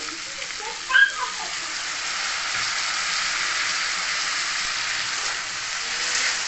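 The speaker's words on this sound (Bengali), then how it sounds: "সব মশলা দিয়ে সামান্য গরম জল দিয়ে দিচ্ছি" Hot water is poured over cumin, turmeric and chilli powder in a pan of long bean and potato curry, bringing a brief splash and then a steady, even sizzling hiss.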